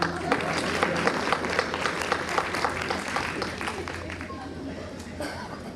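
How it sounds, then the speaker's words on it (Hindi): An audience at a live comedy or poetry stage performance in Ghakkhar, Gujranwala, claps in a dense, sustained burst of applause with crowd chatter mixed in, fading slightly toward the end. "ऐथे भी मारो तालियां, मर जानी"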